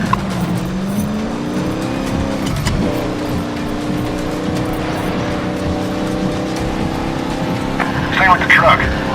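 Engine of an old truck being chased in Medal of Honor Warfighter, a loud steady revving drone with tire noise, rising toward the end over game ambience.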